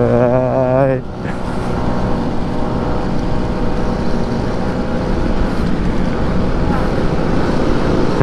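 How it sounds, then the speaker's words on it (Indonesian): A Vespa scooter engine drones steadily while riding, with a brief rising tone at the start, then continuous rumble and heavy wind rush over the microphone throughout. "pertama loh bawa Vespa ya"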